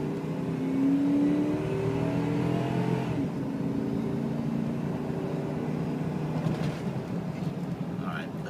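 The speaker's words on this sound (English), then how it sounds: "Let me jump on it here and let you see it shift." A 2002 Dodge Ram 4x4 pickup truck accelerates with a steady engine drone that rises in pitch, dips briefly as it shifts gears, then climbs again, heard from inside the cab.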